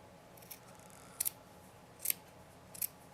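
Scissors trimming fabric edges for a stuffed heart, three or four short, crisp snips spaced about a second apart, close and fairly quiet against a faint room hum.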